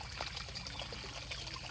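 Hot spring water at a boiling kund in Unhavare near Dapoli bubbles and trickles steadily in a pool, a close, continuous watery burble with no pauses.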